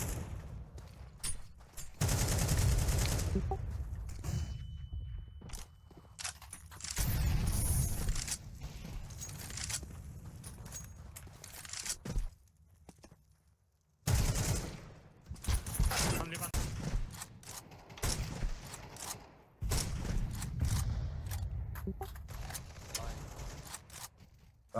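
Rapid bursts of video game gunfire crackle in dense volleys and sustained automatic fire, loud and close, breaking off in short pauses, while players talk over the shooting.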